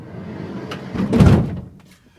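A screen door on a Winnebago Paseo slides shut along its track with a soft rolling rush that swells into a muffled thunk at the close, then fades away.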